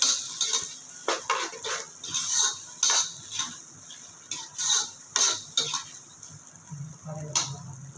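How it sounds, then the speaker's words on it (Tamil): Three spoons of ginger-garlic paste being sautéed in a pan for yellow coconut-milk rice, a metal spoon scraping and clanking against the pan in a quick, repeated rhythm, with only a faint sizzle underneath. "இதே வந்து இஞ்சி பூண்டு ஒரு மூணு ஸ்பூன் போட்டுக்கலாம் போதும் இப்போ நல்லா பச்சை வர போகிற அளவுக்கு நல்லா வதக்கிடலாம்"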